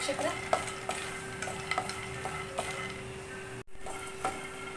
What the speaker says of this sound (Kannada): ಸ್ವಲ್ಪ ಎಳ್ಳು ಕಡಲೆ ಬೀಜ ಎಲ್ಲ ಒಂದು ಡ್ರೈ ರೋಸ್ಟ್ ಮಾಡ್ಕೊತೀನಿ